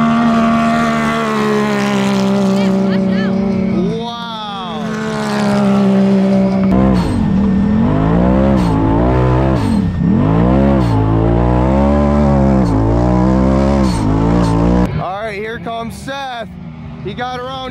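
Off-road UTVs, Can-Am and Polaris machines, race on a sand track at a big sand event, their engines roaring loud and close with rising and falling revs as they pass, ending in a shriller burst.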